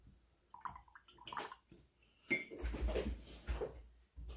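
Paintbrush rinsed in a cup of water while painting a Highland cow, giving close, soft swishing and light clinks in short bursts, with quiet gaps between.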